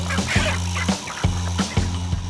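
Chickens packed 15 to 20 to an iron basket for market delivery cluck and squawk in short, irregular bursts, fairly close and moderately loud, with no talk.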